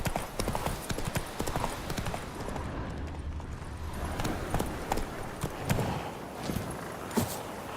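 Hooves of Roach, the horse in The Witcher 3, clip-clop in a steady walking-to-trotting rhythm beneath a dense layer of ambient game noise, fairly close and continuous throughout.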